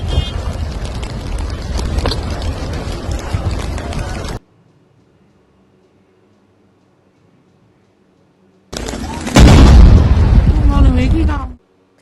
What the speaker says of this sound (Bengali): তারপরে ভয়াবহ বিস্ফোরণ ঘটে।